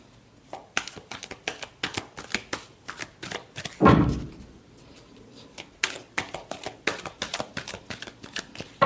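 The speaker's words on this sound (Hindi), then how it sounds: "Last shuffle." Tarot cards are shuffled by hand in quick, crisp riffling bursts close up, one steady rhythmic run broken by a single heavier thump midway, then the shuffling resumes.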